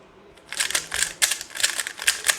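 Rapid clicky plastic clacks come in quick uneven bursts as a QiYi RS3M speed cube is twisted fast, close and moderately loud.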